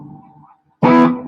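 Electric guitar played through a Keeley pedal in drive mode with a Tele neck pickup, drenched in heavy reverb; a quiet held tone fades to near silence, then a loud, bright strummed chord swells in and rings on with a long reverberant tail.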